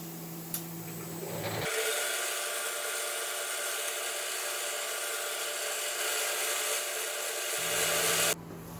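A Clausing 8540 making cutting passes on a metal support bracket: a steady, loud high-pitched machining whine that starts abruptly, holds evenly for several seconds, then cuts off near the end, with no talk.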